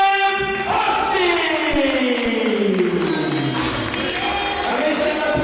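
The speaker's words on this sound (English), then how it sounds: "this is a big round of applause for Maria and Carrion" Crowd at a live boxing event in Malta applauds and cheers the winner after a TKO stoppage, a loud sustained roar of clapping and shouts under a falling electronic tone and a raised voice.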